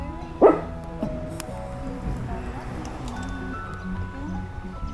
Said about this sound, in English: Barking over the top of my video.